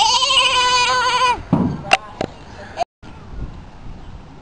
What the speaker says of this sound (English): What's the goat say?